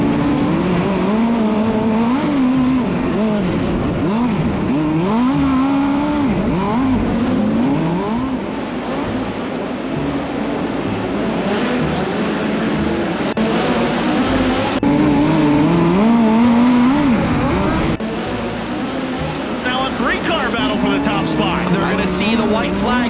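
Race cars roar through a feature race on an oval track, engines revving and swelling as the pack runs nearly three wide into a turn, loud and continuous beneath excited commentary.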